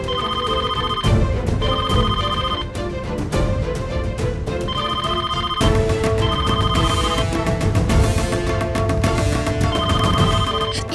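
A telephone rings loudly in a house at night, repeated electronic ring bursts in a steady pattern over a background musical score, with no voices.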